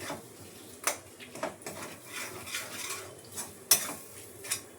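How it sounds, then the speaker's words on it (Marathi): Butter and spices for pav bhaji sautéing on low gas, a soft low sizzle under repeated scrapes and clinks of a spoon against the pan, quiet and close with no talking. "चांगलं परतून घेते जरा बारीक गॅसवर, म्हणजे काळपट होत नाही. बटर पण वितळते आणि मसाले पण परत आहे."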